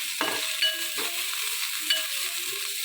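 Chopped ingredients frying in oil in a pan for a banana-flower and roasted-rice stir-fry, with a steady sizzle broken by a few scraping stirs of a spoon against the pan.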